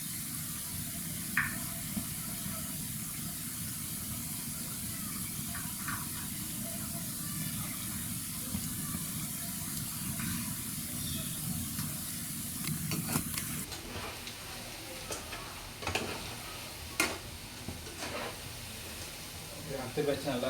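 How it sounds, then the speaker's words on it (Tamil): Spiced cauliflower deep-frying in hot oil for gobi manchurian gives a steady, dense sizzle that lasts throughout and changes character partway, with occasional clinks and stirring. "இப்போ வந்து அடுத்து எண்ணெயில் பொரிச்சு எடுக்கலாம்."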